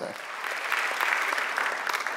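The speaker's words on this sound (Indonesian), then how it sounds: "Beri tepuk tangan bagi Tuhan." Congregation applauding during a church worship service, a brief full burst of many people clapping together, loud and continuous throughout with a faint murmur blended in.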